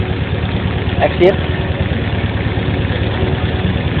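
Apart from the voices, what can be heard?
EFI car engine idling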